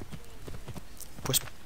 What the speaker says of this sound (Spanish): Y ahí llamamos al caballo